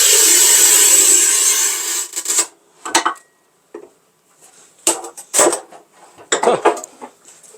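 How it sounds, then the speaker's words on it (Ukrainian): A Bihui Forse Hercules tile cutter scores 10 mm matte porcelain stoneware with a steady rasping scrape. Several sharp snaps and knocks follow as the tile is broken in half, with no one talking. "Ріжемо пополам"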